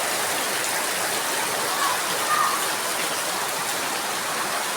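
Rain falls in a steady, dense hiss, even and unbroken throughout, without voices.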